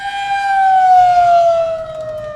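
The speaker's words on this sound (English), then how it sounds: "Sirens are sounding here." Tornado warning sirens wail steadily across a town in Colorado during a dusty tornado outbreak, a loud, sustained tone that slowly falls in pitch as it sweeps, with faint background noise beneath.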